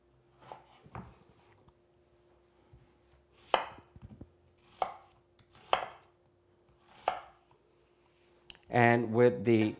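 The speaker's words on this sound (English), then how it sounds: "with the onions, you really want to kind of cut them into wedges" Knife chopping onions into wedges on a board: about half a dozen sharp, separate cuts with pauses between them, and a voice speaking briefly at the end.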